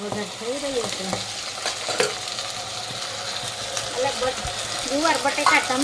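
Guar beans, potato and tomato frying in a spiced tempering give a steady close sizzle with stirring scrapes throughout, while faint voice-like tones sit in the background.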